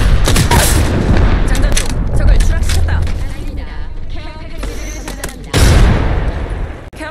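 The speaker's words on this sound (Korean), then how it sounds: "수류탄 투척." Video game combat: a thrown grenade bursts amid dense gunfire, with a loud, sharp blast late in the sequence over continuous rattling shots, and game voices speaking in the mix.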